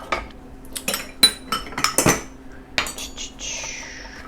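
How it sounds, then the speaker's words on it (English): A knife cuts a celery stalk in half and then into bias slices on a cutting board. Irregular sharp chops and taps come in quick clusters up close, followed by a short scraping sweep. "I'm going to cut this celery stalk in half and then do this bias cut"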